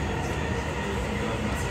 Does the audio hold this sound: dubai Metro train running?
yes